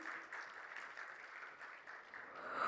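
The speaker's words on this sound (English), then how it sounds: "Can we applaud for this, please?" Audience applause at an awards ceremony, a continuous faint wash of many hands clapping, steady and distant, swelling slightly toward the end.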